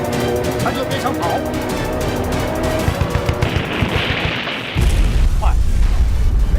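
Missile blasts and rapid gunfire in a Chinese drama helicopter gunfight against terrorists, a dense continuous barrage of loud cracks and rumbling booms that swells into a heavy low explosion near the end.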